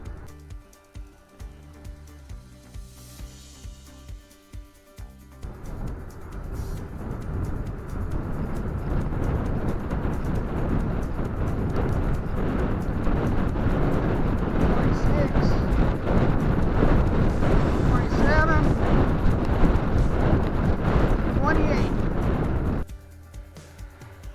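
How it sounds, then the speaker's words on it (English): Ride1Up Prodigy XC e-mountain bike accelerating hard in boost mode, in the hardest gear, from 13 to about 28 mph on a slight incline: a steady, loud rushing of wind and motor whine that swells after a few seconds and holds for about seventeen seconds before cutting off. "I'm going to see how long it takes to accelerate 28 miles an hour from 13. I'm in the hardest to pedal gear and in boost mode"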